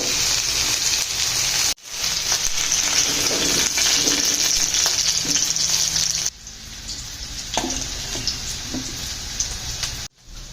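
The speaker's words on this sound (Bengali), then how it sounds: "হাই ফ্লেমে ঢেঁড়সগুলোকে সিক্সটি পার্সেন্টের মতো কুক করে নেবেন" Okra frying in oil in a pan over a high flame. A dense, continuous hiss of sizzling with a few brief cut-offs and soft clinks, with no voices.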